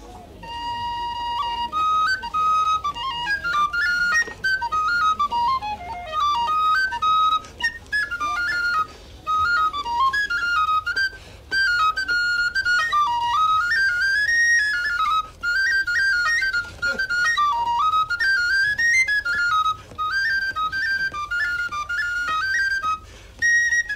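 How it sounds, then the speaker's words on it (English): An Irish tune played solo on a tin whistle at a Fleadh Cheoil in Ennis, County Clare, with a bright, ornamented melody running steadily from start to finish. "Micko, would you like to play us a tune, maybe on the tin whistle?"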